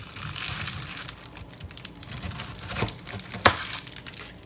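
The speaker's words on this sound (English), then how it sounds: "Just gotta cut the top off." A knife sawing through the leafy top of a slightly dried-out pineapple on a kitchen counter, giving close crunchy, crinkling cuts with a sharper snap near the end.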